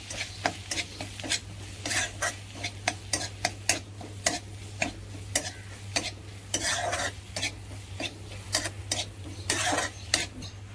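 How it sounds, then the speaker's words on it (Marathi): Spices and green peas being sautéed in a pan for Maharashtrian kurmura sushila, with a spoon scraping and stirring in frequent sharp strokes over a soft, steady sizzle. "आता हिरवे मटार घालूया। मसाले परतून घेऊया।"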